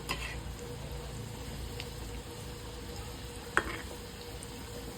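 Homemade gulab jamun fry in hot oil with a steady, close bubbling sizzle, broken once by a sharp click of a utensil.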